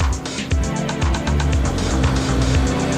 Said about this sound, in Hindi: अभी ये ट्रैक्टर 2000 RPM पर है, वाइब्रेशन बिल्कुल नहीं है।